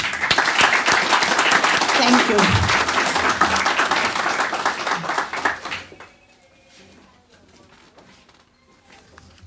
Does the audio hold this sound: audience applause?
yes